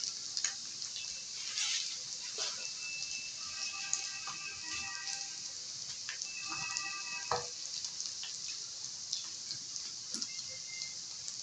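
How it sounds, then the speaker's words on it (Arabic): Onions and cabbage fry in a pan, giving a faint, steady sizzle with occasional crackles and pops and light stirring noises. "نحمر كده البصل برضه، ونحط شويه تانية من كرنب"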